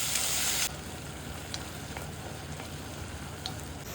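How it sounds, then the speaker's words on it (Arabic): Garlic, pepper and chopped peeled tomatoes sizzling in a pan while being stirred, a steady close frying hiss with a louder burst at the start and occasional light scrapes. "بنقلب المكونات وبنضيف البندورة المقشرة المقطعة. بنقلب لحد ما تذوب البندورة"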